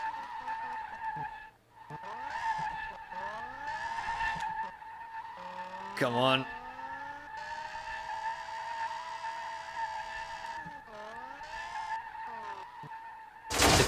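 Tires screech and skid almost continuously as a BMW M5 E28 with a V10 engine is drifted in the video game SLRR, its engine note rising and falling beneath, with a short burst of speech near the start.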